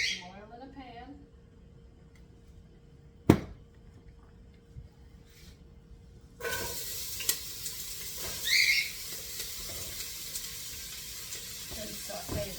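Oil in a pan bursts into a steady crackling sizzle as vegetables for broccoli rabe start to sauté, preceded by quieter kitchen handling and a sharp clank.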